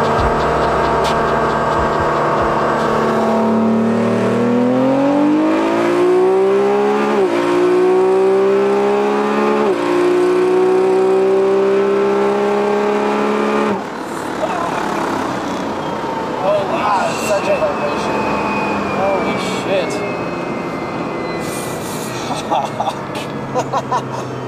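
A car accelerates hard through rising gear-by-gear engine sweeps at a slipstream top-speed event, reaching about 303 km/h, loud and close, then shifts to a rougher wind-and-road roar at speed with voices talking over it.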